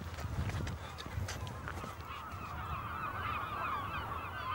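Brent geese honk in a loud, dense chorus at dawn over a marsh on an island between marshland and ocean, calls overlapping continuously at a moderate distance.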